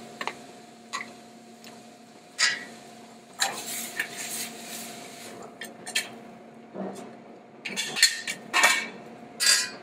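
Bread stuffing with egg being mixed up close by in a bowl, with irregular soft scrapes, clinks and ticks over a faint steady hum.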